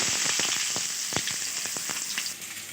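Chopped onion sizzling in hot oil with cumin seeds while cooking a fish tamarind curry: a steady, close frying hiss dotted with sharp crackles and spatters, with no talking.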